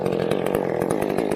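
Stihl chainsaw, freshly serviced with a newly sharpened chain, running steadily at a loud, close buzzing idle with slight pulsing, throughout a winter tree-felling job; no voices.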